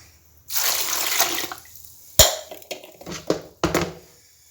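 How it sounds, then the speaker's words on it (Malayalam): Water is poured into a curry pot with cumin and salt, a splashing gush for about a second followed by several sharp clanks and drips, close and without talk. "പിന്നെ ഒരു പാട്ടം വെള്ളം ഒഴിക്കാം."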